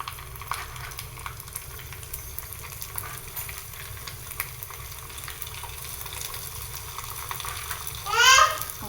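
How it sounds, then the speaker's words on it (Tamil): Hot oil crackles and sizzles steadily as sun-dried vadagam fries, with a brief louder burst of bubbling near the end. "இப்போ நம்ம வந்து வடகத்தை பொரிக்க போகிறோம்."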